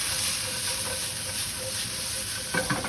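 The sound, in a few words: sugar snap peas and sweet peppers sauteing in a hot pan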